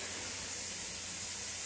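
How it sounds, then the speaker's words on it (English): Sausage drops into a hot pot of jambalaya being cooked outdoors for a family Memorial Day meal, giving a loud, steady hiss and sizzle that holds throughout with no talking. "Going in with the sausage."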